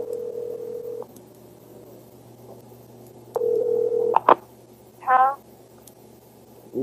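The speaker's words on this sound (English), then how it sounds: "Tony places a call to the pay station number." Telephone line tones as a call is placed to a pay phone number: a steady tone, a short pause, another tone, then a few clicks and a rising ringing burst, fairly quiet over faint hum.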